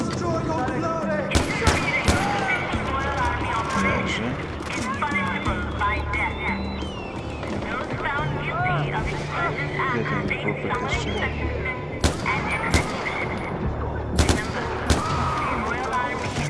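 Far Cry 4 gunfire crackles in repeated sharp bursts and single shots over a dense game soundscape, with someone talking throughout.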